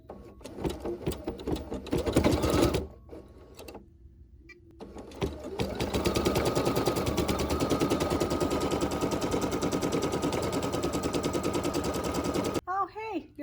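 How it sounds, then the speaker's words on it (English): A sewing machine stitches fabric for a cupcake pincushion. Voices come first, then a brief lull, then a loud, steady, rapid mechanical whirring and clattering that runs on for several seconds before stopping abruptly. "And now we're gonna stitch color number 4."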